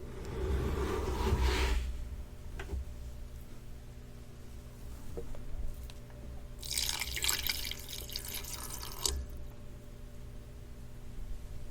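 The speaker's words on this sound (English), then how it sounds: "we're just going to grab a little bit of water and we're just going to pour this in so that everything can mix up" Saline water poured into a witch's mermaid potion mix for ASMR, two separate close-up bursts of splashing and trickling liquid over a quiet background.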